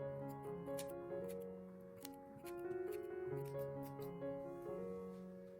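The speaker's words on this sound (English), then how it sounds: "Take a pair of scissors and carefully cut along the stitching line that connects the sleeve to the body of the sweater." Scissors snipping along the stitching line joining a sweater sleeve to its body, several sharp close clicks scattered over a steady background of music.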